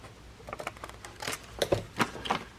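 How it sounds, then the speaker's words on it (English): Scissors snip small corners out of paper in a few quick, soft, close cuts, quiet with no talk. "now let's cut these little corners out"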